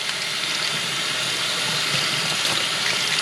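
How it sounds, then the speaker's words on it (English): Tap water runs steadily and rushes over layered vegetables as they are rinsed in a sink, a continuous close hiss of flow with no pauses. "Best way to do that is like this, just kind of open it up a little bit, rinse everything inside and out."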